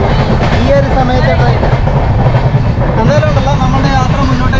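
A moving passenger train rumbles with a steady, loud clatter of wheels on rails, heard from inside the carriage with a voice audible over it.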